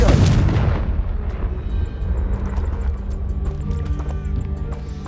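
A Confringo blasting spell goes off in Hogwarts Legacy: a loud, close burst at the start decays into a rumbling tail, followed by lingering game ambience and faint tonal effects.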